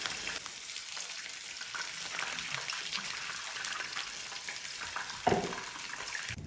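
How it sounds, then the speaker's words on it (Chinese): Pork fat renders in a wok with a continuous, moderately loud frying sizzle and crackle, with a brief clatter near the end. "把肉跟油煸出以后，像这样黄黄的就可以了"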